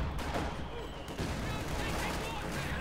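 Battle sounds in the Company of Heroes 2 video game: a dense, continuous wash of gunfire and explosions at steady loudness, with a commentator talking over it.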